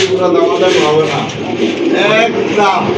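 Female pigeon at a pigeon sale, with low cooing phrases close by that are largely masked by someone talking loudly over them.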